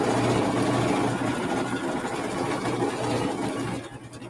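An embroidery machine stitching an applique tack-down stitch on a jack-o'-lantern design, a steady, fast mechanical whir and rattle close by that fades out at the end.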